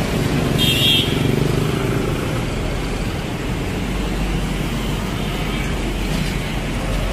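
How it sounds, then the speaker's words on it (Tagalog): A motorcycle passes on a busy road beside a driving school, its engine rumble set in a constant wash of traffic noise, with a brief high toot early on. "Yung motor na yan."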